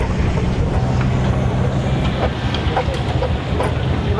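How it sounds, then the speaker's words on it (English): Mascall's steam engine idles slowly at a steam and country show, giving a steady low mechanical rumble with faint rhythmic clicks and knocks throughout, close and fairly loud, with no talking. "have the engine sitting there slowly ticking over"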